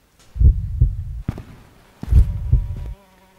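A heavy, muffled heartbeat thumps in Dungeon Nightmares II, two clusters of deep low pulses in a lub-dub rhythm, loud and close, with a faint tone sustained underneath.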